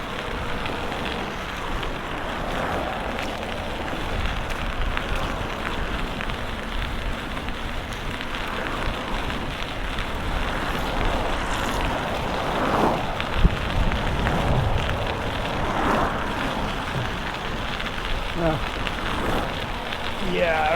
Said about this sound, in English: It's like raining or fucking wet.